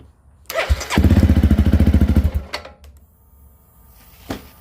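A Honda CRF motorcycle with an electrical fault cranks over with a rapid, rhythmic churning for about a second and a half, then cuts out, followed by faint clicks and one brief knock.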